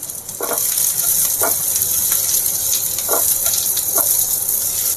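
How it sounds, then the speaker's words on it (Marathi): Sliced onion frying in hot oil, a steady loud sizzle with a few soft stirring scrapes breaking through at intervals, no voices. "आता आपण त्यामध्ये उभा चिरलेला कांदा टाकून घेऊयात आणि कांदा चांगला गोल्डन ब्राऊन होईपर्यंत भाजून घ्यायचा आपल्याला"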